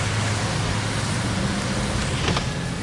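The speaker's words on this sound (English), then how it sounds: "Let's see if we could get a little rain noise" Rain falls during a car drive around Newberry, Florida, a steady wash of hiss over low road rumble that continues without pause.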